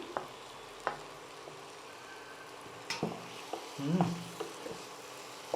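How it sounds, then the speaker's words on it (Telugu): Brinjal paste goes into a hot pan and is stirred, giving a soft, steady sizzle with scattered scraping taps and a brief louder stir burst near the end, close and fairly quiet. "మనం ఇందాక ఈ వంకాయ ఇలా రెడీ చేసుకున్నాం కదా, పేస్ట్ ఇందులో వేసేస్తున్నా"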